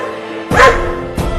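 Dog barking in a comedic Indian household scene, two sharp loud barks close by, the first longer and the second brief, over a quieter background.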